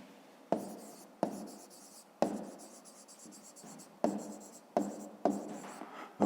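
A pen scratches on paper in a run of short strokes, each starting with a sharp tap and trailing off in soft scraping, close and quiet, with pauses between them.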